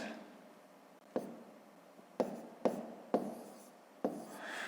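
Pen writing numbers on paper at a desk during a fifth-grade maths lesson, heard as soft close scratching with several sharp taps as the pen touches down, quiet and alone.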